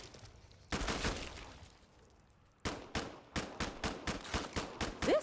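SMG gunfire in the video game Killing Floor 2: one long rattling burst, a short pause, then a fast rhythmic string of close, loud shots with no talking.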